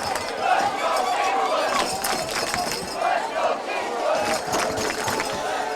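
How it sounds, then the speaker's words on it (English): Kingswood student section chanting "Let's Go Kingswood" at a high school football game against Plymouth, a steady crowd roar with rhythmic swells of chant rising and falling through the whole stretch. "the Kingswood student section leading the cheer of Let's Go Kingswood"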